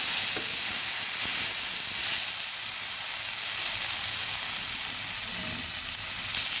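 Bitter gourd and potato pieces fry in hot oil in a pan, a loud steady sizzle with occasional stirring scrapes, close and continuous with no talk.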